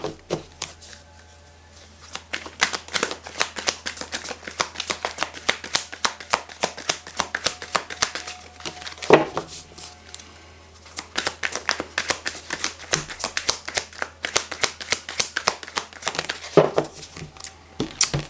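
Tarot cards are shuffled and drawn by hand in rapid, papery riffles and slaps, close and crisp, with a couple of brief pauses between bursts and no talking.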